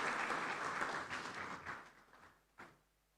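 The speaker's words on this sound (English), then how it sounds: "Please, a round of applause for Dr." Applause from a conference audience welcoming a speaker, dense steady clapping that thins out and fades over about three seconds, followed by a single late bump.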